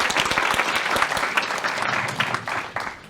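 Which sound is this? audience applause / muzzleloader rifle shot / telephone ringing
audience applause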